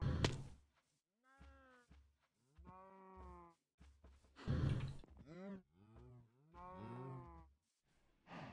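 Cows in Minecraft mooing in a string of separate, drawn-out calls with pauses between them. The calls are clear and close, and vary in pitch from one to the next, with no talk over them.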